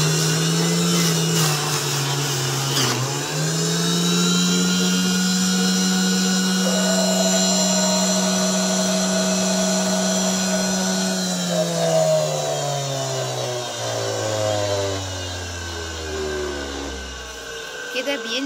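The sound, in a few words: blender blending boiled carrots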